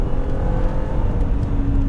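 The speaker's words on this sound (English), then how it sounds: "I like the exhaust note, but it just needs to be a little bit louder." A BMW Z3 M Coupe engine revs with a steady, loud exhaust note, a continuous deep drone from a nearby car with no voices over it.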